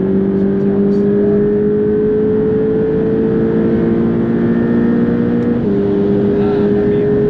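A Porsche Boxster 718 engine droning at steady revs, a loud continuous tone heard from on board, with a brief dip in pitch near the end.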